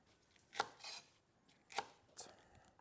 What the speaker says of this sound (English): The leek we also split down the middle, and then quite long cuts